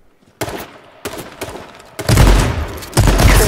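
Shotgun blasts in a video game firefight, several loud separate booms a fraction of a second apart, with the last ones heavier and rumbling, and no talking over them.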